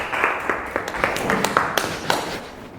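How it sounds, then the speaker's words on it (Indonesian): A small group claps at a lesson in a school setting, with scattered, uneven hand claps and taps at moderate volume, with voices talking over them. "Oke, tepuk tangan."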